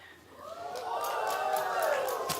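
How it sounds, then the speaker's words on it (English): A TV talk-show studio audience greets Violet, a black vulture from SeaWorld San Diego, with a swelling wash of cheering and clapping that builds from quiet to a sustained, lively roar with whoops rising above it. "you can clap for that"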